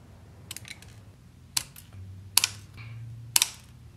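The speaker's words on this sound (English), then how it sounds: "I'm just gonna do that with some plain old scissors." Plain scissors snip acrylic nail tips into a coffin shape, four or five sharp, close clicks spaced roughly a second apart over a quiet background.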